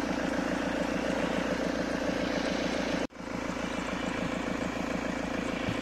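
A car engine idles steadily just after being started on a cold March morning. It makes a close, continuous, evenly pulsing drone with a brief dropout midway, and no talking is heard.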